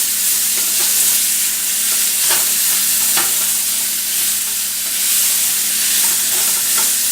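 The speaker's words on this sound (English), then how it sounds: "I'm going to let that onion sweat a little bit." Onion and garlic sweat in a pan for a pasta dish, a loud, steady hiss of frying with faint stirring ticks, close up and without talk.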